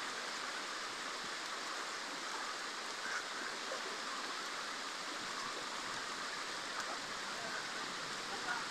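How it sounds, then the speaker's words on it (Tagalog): A river flowing at a picnic spot, its water rushing in a steady, even wash of noise with no breaks and no voices. "Narito tayo sa ilog ngayon"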